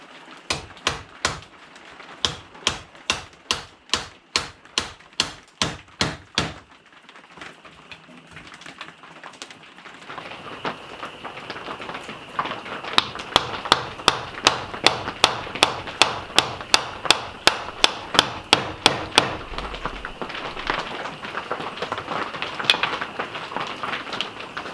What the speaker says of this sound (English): I'll get my square chisel and I will clean those corners up.